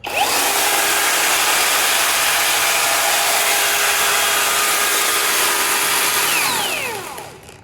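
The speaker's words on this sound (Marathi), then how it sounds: "हे दोन बटन प्रेस केल्यानंतर हे स्टार्ट मशीन स्टार्ट होतं" A cordless battery chain saw on a farm runs in one steady, loud, high whine for about six seconds, then winds down near the end. No one speaks.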